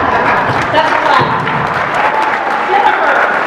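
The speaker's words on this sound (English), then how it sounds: "That's a clap." Audience clapping at a Women In Trucking keynote address, a broad continuous wash of applause that stays steady and fairly loud from start to finish.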